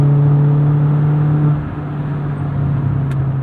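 Steady engine drone from a 2021 Mazda Miata RF GT (ND2), a small four-cylinder roadster, holding a constant hum that eases slightly partway through, close and fairly loud.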